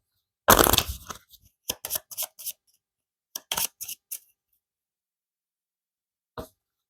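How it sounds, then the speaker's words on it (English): A deck of cards is shuffled for the Friday board game: a longer riffling burst, then several short crisp flicks and taps in quick clusters, ending with one isolated snap after a pause, close and clear without talk. "Shuffle it up."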